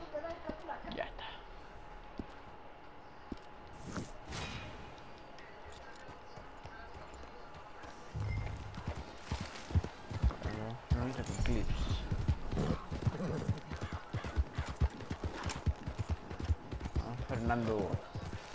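In Red Dead Redemption 2, a horse's hooves clip-clop in a steady trotting rhythm that grows louder and denser in the second half, with someone talking over it.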